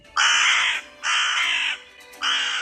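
Three loud, harsh crow caws in a row, evenly spaced, close and clear with quiet gaps between.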